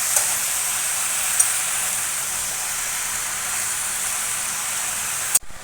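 Malabar spinach and hilsa fish head simmering in a pan, giving a steady, even sizzle and hiss throughout with a couple of faint stirring taps, ending in a brief louder clatter.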